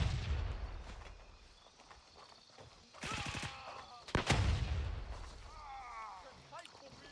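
A grenade blast in the military shooter Gray Zone Warfare, a sharp loud boom at close range followed by rumbling decay, with gunfire bursts and players talking over the action.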